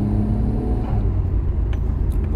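A Nissan Skyline GT-R R32 imported from Japan pulls with a steady, loud low engine rumble heard from inside the car, a continuous drone without talk.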